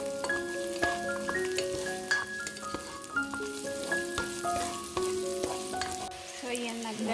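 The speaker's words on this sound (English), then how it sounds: "Put the ginger too, saute it together with garlic and onions." Ginger, garlic and onions sautéing together in a hot pan for Pork Bicol Express, a steady close sizzle and crackle with occasional stirring clinks, no talking.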